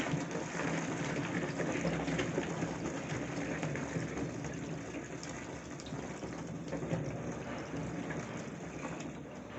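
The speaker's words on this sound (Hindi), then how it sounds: "थोड़ा पानी और डाल लेते हैं।" Water pours steadily into a frothy, foaming mixture, a continuous gushing splash of moderate loudness that runs for several seconds with no talking.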